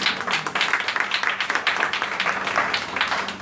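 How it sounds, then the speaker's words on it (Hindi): A church congregation at an outdoor street worship gathering of Bethel Prayer House in Ludhiana claps hands together, a dense, continuous patter of many hands lasting the full few seconds at moderate loudness. "ताली बजा के धन्यवाद करता हूँ"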